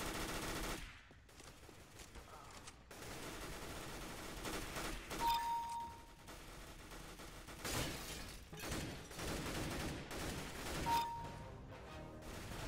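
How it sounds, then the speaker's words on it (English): Rapid bursts of gunfire in the CS:GO video game, repeated volleys and single shots spread across the stretch, moderately loud and fairly continuous. "I'm just up here shooting people in the head."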